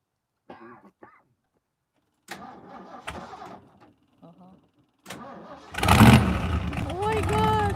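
An old car fitted with a 1969 Mustang motor cranks and catches, then roars loudly to life close by, following scattered speech and throat clearing, with people talking around it.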